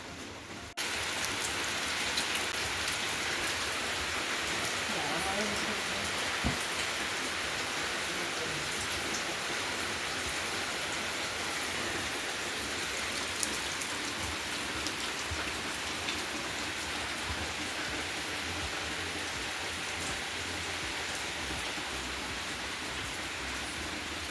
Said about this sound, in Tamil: மழை விட்டுருச்சு இப்போது லைட்டாக தூரிட்டு தான் இருக்குது